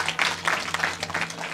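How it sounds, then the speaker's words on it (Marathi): Audience clapping at a Banjara hamlet kirtan gathering, dense and continuous for a moment with a low hum underneath and no talk over it. "सर्वांनी टाळ्या वाजवून आपल्या या सुपुत्राचं स्वागत करायचं आहे"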